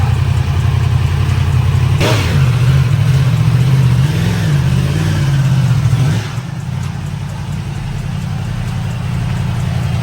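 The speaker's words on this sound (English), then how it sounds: "Bike sounds like it's not too bad for a stock exhaust" A 2023 Yamaha R1M motorcycle with stock exhaust idles with a steady low rumble, then revs up and down for a few seconds before settling back to a rough idle.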